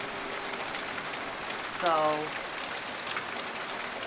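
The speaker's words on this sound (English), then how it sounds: "here they come, driving through the rain." Steady rain hisses against a car during a drive under a tornado watch in New York, continuous and enveloping throughout, with a brief spoken word partway through.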